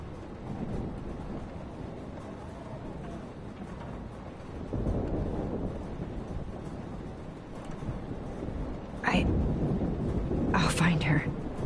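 Storm ambience from the video game Life is Strange: a steady low rumble of wind and rain fills the scene, swelling after a few seconds, with brief sharper bursts near the end, while game characters talk over it.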